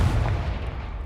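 A Confringo blasting spell cast in the Hogwarts Legacy video game, a loud low booming blast with a sustained rumbling roar that carries through the whole second.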